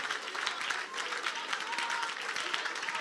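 A church congregation claps hands together during prayer, a steady dense patter of many hands at moderate distance, continuous and fairly soft throughout.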